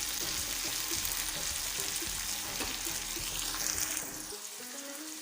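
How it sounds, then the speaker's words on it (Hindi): Chopped tomatoes cook in a pan for a quick breakfast omelette, giving a steady close sizzle with light stirring taps that quiets near the end. "टमाटर को भी अच्छी तरह से इसके साथ थोड़ा थोड़ा पका लेते हैं।"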